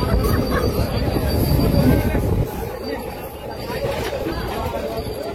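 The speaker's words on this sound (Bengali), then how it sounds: "চলে এসেছি শেওড়াফুলি স্টেশন" Busy platform at Sheoraphuli railway station, with a dense crowd murmur and the low rumble of a passing train, loud and steady for the first half before easing slightly, voices mixed throughout.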